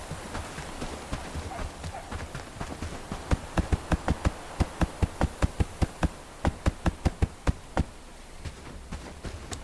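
Hammering during construction in the video game Bellwright sounds as a fast, steady run of sharp knocks, a dozen or more evenly spaced, fairly close and crisp. They stand out clearly over a soft background, then stop near the end.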